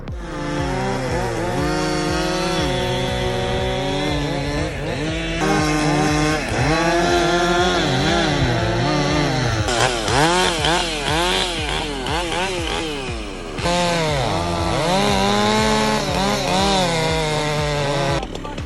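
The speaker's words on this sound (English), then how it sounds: "That 395 saw was hopped up by Madsen's for a reason. It handles the 42-inch bar and this heavy leaner without breaking a sweat." A modified Husqvarna 395 chainsaw with a 42-inch bar fells a huge leaning Oregon timber, its loud engine revving and bogging in rising and falling surges as it cuts, close and alone.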